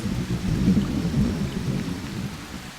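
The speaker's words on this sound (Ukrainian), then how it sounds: "А ось низькі шаруваті хмари приносять дощі, зливи, грози." A summer thunderstorm with heavy rain, deep rolling thunder rumbling continuously beneath a steady hiss of rainfall, fairly loud with no voices.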